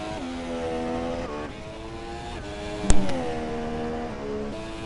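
An F1 race car in the F1 2017 video game roars past with a high, whining engine note that steps through several gear shifts, steady and loud, with one sharp click partway through and no talk.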